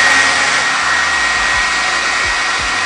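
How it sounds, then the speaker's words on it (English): A hair dryer blows steadily and loudly, a constant whooshing hiss with a faint motor whine underneath. "Next most important thing is the hair dryer."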